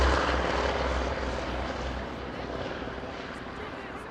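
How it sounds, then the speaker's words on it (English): A Wright Cyclone piston engine roars loud and close as the aircraft takes off tail-high at an airshow, the broad engine noise slowly easing off over a few seconds. "wonderful sound, the Wright Cyclone. Quite a tail high attitude on the takeoff there"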